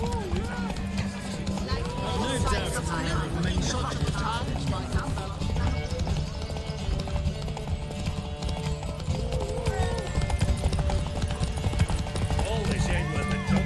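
Horse hooves clip-clop in a fast gallop during a race in The Witcher 3, rhythmic and continuous under game music and voices, with an occasional whinny.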